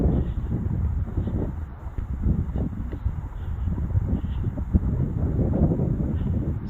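Steady wind buffets the microphone at a mountain lookout on the Blue Ridge Parkway, a constant low rumble and roar with gusty swells and no voices.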